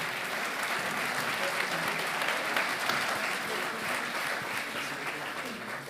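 Audience applause for award winners at a business trophy ceremony in Cantal, a sustained dense crowd of clapping that holds steady throughout, heard from within the room.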